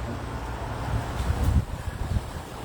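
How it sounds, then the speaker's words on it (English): Steady wind buffets the microphone in a Fort Lauderdale backyard with low rumbling gusts that swell briefly in the middle, no voices present. "it is windy out here this morning"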